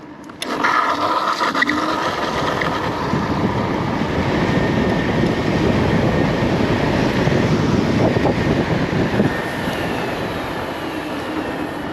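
A Kaabo Wolf King GTR electric scooter rides in S mode, sixth gear, with traction control off, giving a loud, steady rush of wind and road noise that holds for the whole ride, with no talking.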